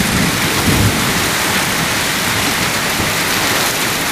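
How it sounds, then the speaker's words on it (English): Very heavy rain pours down in a dense, steady roar, with thunder rumbling low beneath it and no voices. "I've never seen it rain this hard"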